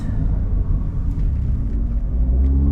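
The 630hp BMW X3M's engine rumbles loud and close at the start of a Nürburgring lap, a deep steady drone with the pitch creeping upward under acceleration.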